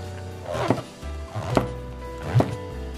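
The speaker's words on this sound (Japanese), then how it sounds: "横半分に切って縦に薄切りする" A knife slices king oyster mushroom thinly on a cutting board, giving three separate crisp chops at a slow, even pace, close and clear with faint kitchen background.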